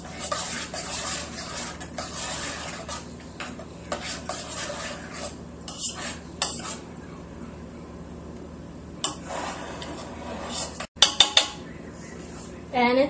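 Macaroni and cheese is stirred in a plastic bowl, with soft scraping and clinking of a utensil against the bowl, steady and close, ending in a few sharper knocks.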